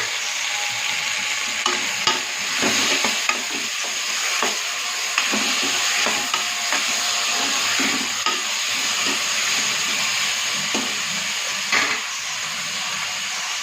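Four chopped tomatoes fry in a pressure cooker pan for tomato rice, giving a loud, continuous close sizzle and hiss broken by frequent soft stirring knocks, with no voices.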